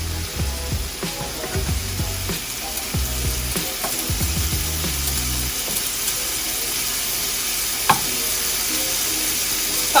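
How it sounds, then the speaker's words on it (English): Extra-large wild-caught shrimp sauté in a pan with a continuous close sizzle, low bumping thuds from moving the pan in the first half, then steady frying with a couple of sharp taps. "You want it just to be cooked because you're sauteing it."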